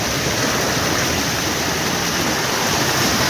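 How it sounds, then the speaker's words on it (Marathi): A forest waterfall at Zirad Pada near Kankeshwar pours down with strong pressure, a loud, constant roar of rushing water heard close by with no voices. "ट्रिबल वॉटरफॉल जवळ आणि पाणी बघा जोरा जोर वाचतंय"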